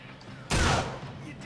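A single loud gunshot goes off in the video game I Am Alive. It is a sharp crack with a short decaying tail, standing out against quiet game background.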